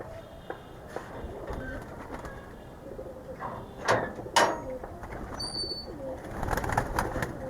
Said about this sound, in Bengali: আজকে চলে আসলাম আমার লফটের কিছু কবুতর দেখানোর জন্য।